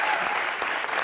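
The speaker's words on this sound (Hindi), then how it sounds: "जोरदार तालियां बनती हैं सर" A studio audience at a televised comedy show breaks into loud, dense, continuous applause, a brief close wash of many clapping hands.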